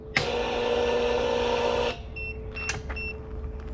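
A 2.5 horsepower air compressor on a portable power station strains for under two seconds with a loud droning hum and then cuts out, followed by a steady low hum and a few faint electronic beeps.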